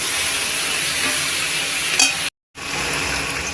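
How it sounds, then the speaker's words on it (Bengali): Malabar spinach (pui shag) frying under a lid in a pan, spiced with coriander-cumin powder, gives a steady close hiss of sizzling that holds throughout, with a brief dropout near the end before the sizzle resumes. "এটাকে আমি এবারে ঢেকে ভালো করে ভেজে নিই"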